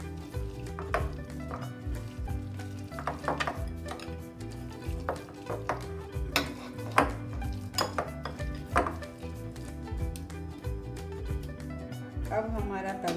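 Vegetable chila batter with green chili, coriander, salt and red chili powder mixed in a bowl, a steady run of spoon clinks and scrapes against the bowl with a low hum beneath, close and moderately quiet.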